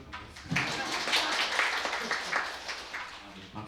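Audience applause after a speaker at a digital healthcare workshop asks for it, a steady broadband patter of many hands that holds evenly for several seconds at moderate volume.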